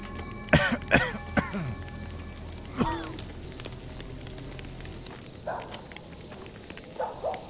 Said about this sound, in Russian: Почему ты кашляешь у костра?